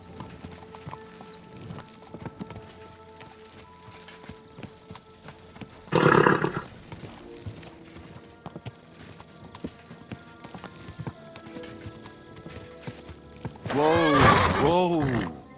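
A horse in Kingdom Come Deliverance 2 clops along steadily while a loud whinny bursts out early and another near the end, heard over a quiet game background.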